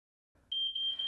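A smoke alarm emits a loud, sustained high-pitched electronic tone that starts abruptly, with a faint low rumble just before it.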